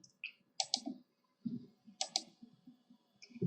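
A handful of sharp, close computer mouse clicks, some in quick double pairs, spaced irregularly over a few seconds in a quiet room.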